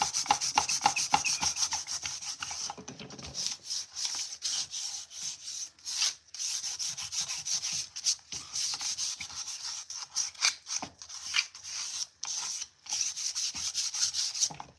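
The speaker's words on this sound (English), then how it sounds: "I think I need a coarser sandpaper." Sandpaper rubs over a thrifted wooden piece being distressed, a close, continuous scratchy back-and-forth scraping with brief pauses, carrying on for about fifteen seconds without any talk.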